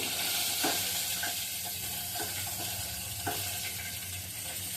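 A fish head frying in hot oil in a home kitchen gives a steady, close sizzle and crackle, with a few faint clinks of utensils against the pan.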